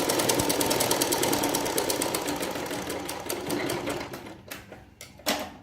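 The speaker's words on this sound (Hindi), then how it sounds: "पूरे इस पे सिलाई लगा लेंगे।" An electric sewing machine stitching salwar fabric runs in a fast, steady rattle of needle strokes, loud and close, slowing and stopping near the end with a few short bursts.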